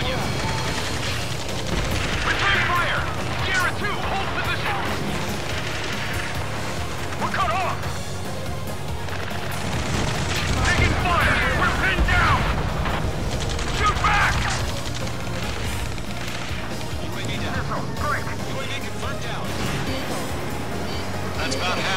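Sustained gunfire and explosions rumble through an Ace Combat 7 air combat mission near a space elevator, a dense continuous barrage with heavier booming swells, while radio chatter runs underneath throughout.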